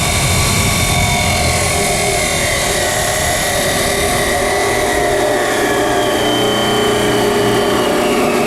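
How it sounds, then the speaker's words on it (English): Leftover sheet steel from trailer dunnage racks is cut with a power tool, a loud, continuous, harsh grinding whine with shifting tones that holds throughout, with no voices. "So what I'm doing now is cutting some steel."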